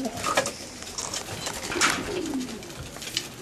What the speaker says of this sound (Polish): na wolierę zaraz wyjdą gołębie